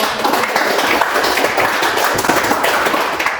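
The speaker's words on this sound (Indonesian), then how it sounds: "Kita berikan aplaus untuk kelompok." A classroom group claps for a student team, a dense, steady patter of hands that fills the room for a few seconds.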